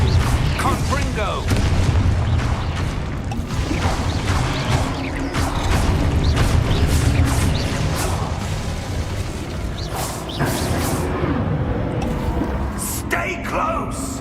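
Confringo blasting spells go off in the Hogwarts Legacy video game as dense, loud rumbling booms and bursts with creaks and pops, under frequent shouting and talk throughout.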